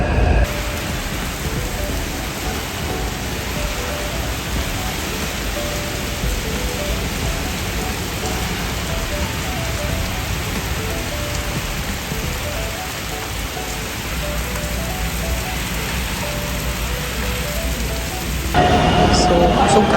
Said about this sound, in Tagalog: So, kusog kayo ang ulan.